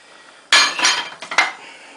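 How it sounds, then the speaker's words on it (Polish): Cooked broad beans tipped into a bowl, a quick cluster of clattering knocks and rattles lasting about a second, close and fairly loud against a quiet background. "Do miseczki sobie wrzucimy już ten bób."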